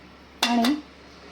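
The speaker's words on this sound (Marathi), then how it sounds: "आता हा भोपळा आपण भोपळ्याचे तुकडे या कुकरच्या डब्यामध्ये ठेवणार आहोत" Pumpkin pieces placed into a pressure cooker container: one short metallic clatter with a ringing tone, close and clear, then quiet.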